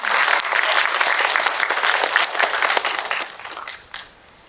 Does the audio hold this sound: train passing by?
no